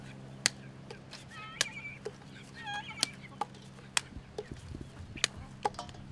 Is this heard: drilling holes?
no